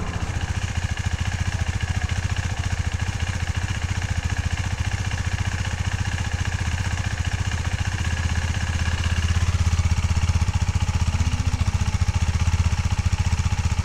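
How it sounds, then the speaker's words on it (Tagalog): A KTM RC 390 motorcycle with its stock exhaust pipe idles close by, a steady, even chugging thrum that grows slightly louder toward the end. "So that is the stock sound of the KTM RC."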